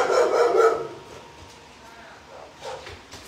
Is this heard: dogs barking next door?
yes